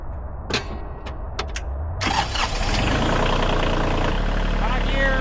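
Kioti CK or CX tractor diesel engine starting and settling into a steady, loud, close idle-range rumble at about 1,000 RPM in high gear, with a few sharp clanks before it catches.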